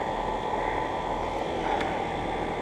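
Three 2016 Trane 4-ton heat pumps run together outdoors, a steady broadband fan roar with a low compressor hum, continuous and even at close range, no talk.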